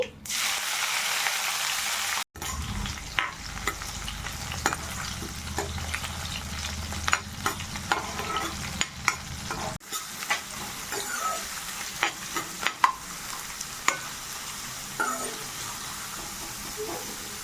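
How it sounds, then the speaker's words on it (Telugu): Mustard seeds, cumin and green chillies frying in hot oil for a Rayalaseema uggani dish, a steady close sizzle with stirring clatter and scattered pops throughout, after a brief sharp start. "ఆయిల్ వేసుకొని ఆవాలు జీలకర్ర పచ్చిమిర్చి"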